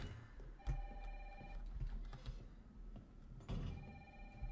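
A telephone rings inside Resident Evil 3 Remake, a repeating electronic bell with ringing bursts spaced across the stretch over low game ambience and thumps, with no talking.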